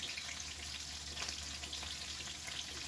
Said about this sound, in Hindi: इधर काट के मिर्च, प्याज और लहसुन कढ़ाई में मिर्च, पहले मिर्च को भूनेंगे